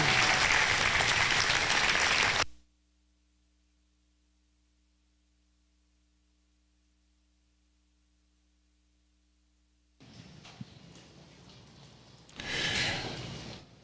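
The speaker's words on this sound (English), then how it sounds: "Why don't you give these kids a big round of applause?" An arena crowd at the Rodeo Austin livestock show applauds youth steer exhibitors in a loud, dense burst that stops abruptly. Near-silence with a low hum follows, then faint crowd noise and a softer swell of clapping return.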